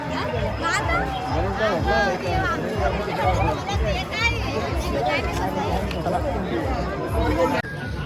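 Dense evening crowd at the Mhasa fair and bullock market in Murbad, a steady hubbub of many overlapping voices and chatter all around, close and continuous throughout.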